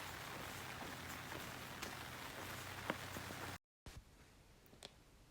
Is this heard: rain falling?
yes